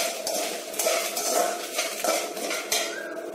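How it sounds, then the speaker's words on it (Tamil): Dried chillies are added to a hot pan with oil and asafoetida for Tenkasi-style coconut podi. Close metallic scrapes and clinks of a spoon against the pan sit over a continuous, soft frying hiss. "நல்லா பொரியுது. இப்போது நீங்கள் வத்தல் போட்டுங்க."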